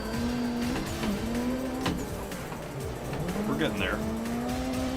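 Drifting car in the racing sim Assetto Corsa with mods, on a new track during a Friday-night drift event, its engine droning steadily with bursts of tire squeal while someone talks over it throughout.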